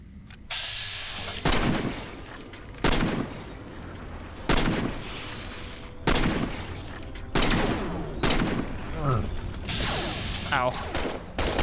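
Repeated heavy gunfire from Bert, a weapon in modded Fallout New Vegas, rings out in about seven loud, sharp bursts spaced a second or two apart over a steady ambient bed, with no talking.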